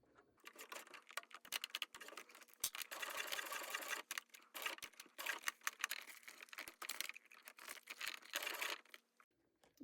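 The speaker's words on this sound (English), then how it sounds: "And then I'm going to stitch the other way, this time from the back." Sewing machine stitching clear vinyl, a close, steady run of rapid needle clatter in several bursts with short pauses, ending in quiet.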